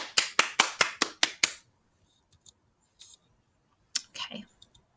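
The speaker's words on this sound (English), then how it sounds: "Another round of applause." A classroom group claps in a quick, even burst of about seven sharp claps over one and a half seconds, followed by near silence and a few scattered clicks and a brief rustle.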